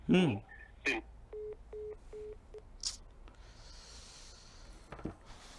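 A phone call fails to connect, giving three short repeated beeps of a busy or unreachable tone, quiet and brief, with other faint clicks and voice fragments around it.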